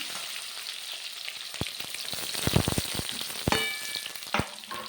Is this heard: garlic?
yes